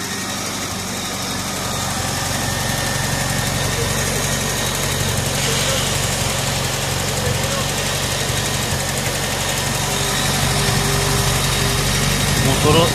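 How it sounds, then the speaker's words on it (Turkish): A 1989 Tofaş Toros, all original and never run on LPG, idles steadily with a low, even engine rumble and faint knocking vibration. It runs continuously throughout and sits close and fairly loud. "Motoru saat gibi çalışıyor."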